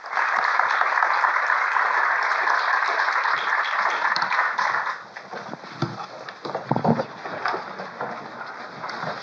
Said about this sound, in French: Donc, je vous demanderai de les applaudir,